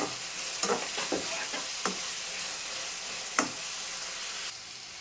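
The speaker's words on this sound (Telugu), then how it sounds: "ఇది పచ్చి వాసన పోయేదాకా ఇట్లా కలిపేసుకున్నాం." Ginger-garlic paste frying in a pan for fish pulusu, a quiet continuous sizzle broken by several sharp spoon scrapes and taps as it is stirred.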